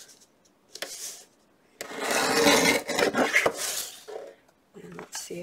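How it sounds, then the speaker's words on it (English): Paper pages being trimmed by hand for an altered book craft, a close dry rasping and scraping that swells into a sustained burst and then breaks into shorter strokes, with a few brief rustles on either side. "I'm just going to trim a little bit off the top here then."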